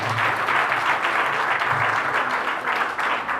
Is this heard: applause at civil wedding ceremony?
yes